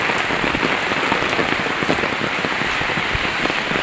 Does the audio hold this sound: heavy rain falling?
yes